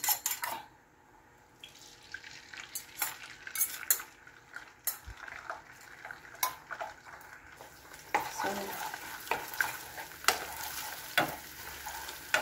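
An egg fries in hot cooking oil in a pan, a soft steady sizzle broken by scraping and tapping from a utensil against the metal, fairly quiet and close.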